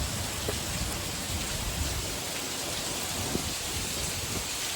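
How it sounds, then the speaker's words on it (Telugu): Heavy rain pours down in Hyderabad as a dense, steady hiss of drops drumming on surfaces, broadband and unbroken, close and moderately loud with no voices. "వర్షం బీభత్సం కొడుతుంది ఫ్రెండ్స్ హైదరాబాద్లో"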